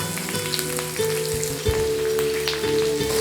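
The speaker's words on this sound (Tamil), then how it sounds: "நல்லா பொன்னிறமாக வறுத்துக்கலாங்க" Ginger, onion and asafoetida frying in hot oil until golden for a spicy Tamil kozhukattai dish, a steady close sizzle with soft crackles throughout, no talking.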